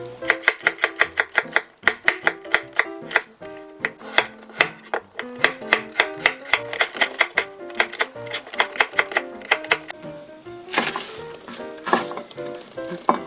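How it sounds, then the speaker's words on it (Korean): A knife chopping scallions on a cutting board, steady rapid thuds in a brisk even rhythm, close and fairly loud, with a brief pause and scraping toward the end. "실파 밑에 부분은 좀 송송 썰어주시고 입은 조금 더 굵게 길게 썰어주시면 돼요"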